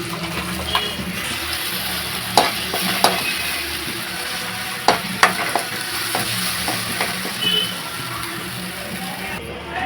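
Ground masala paste frying and being stirred in a pan for a Karnataka-style non-veg dish, a close, steady sizzle broken by sharp scraping clicks of the spoon at irregular moments.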